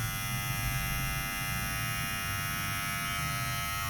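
A cordless hair outlining trimmer, the Wild Detailers model, running steadily: a constant electric buzz with a dense harmonic whine, close and fairly quiet, with no talking.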